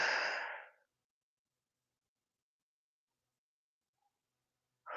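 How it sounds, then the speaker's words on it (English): A deep exhale during a workout stretch, one close, breathy sigh at the start, then silence before another breath begins at the end. "Deep breaths."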